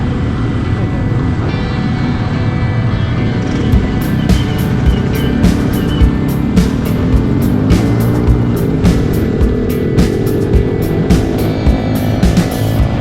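Motorcycle engine running hard at full throttle on an open road near Cileunyi, Indonesia, a steady loud drone with wind rush throughout and a rider talking over it.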